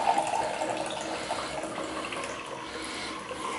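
A tap trickles weakly with a little water, a steady close-up splashing flow that continues without break, with no talking.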